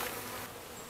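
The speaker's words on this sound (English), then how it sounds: "And those are the basics of putting bees into a hive." A dense swarm of honeybees hums steadily and close while a package is hived, a continuous buzzing drone with no voices.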